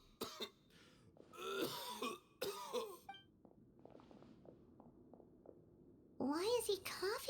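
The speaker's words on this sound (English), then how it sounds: "Why is he coughing so much?" A video game character coughs and clears his throat in several harsh, hacking bursts, with quieter stretches between them and voiced dialogue close up.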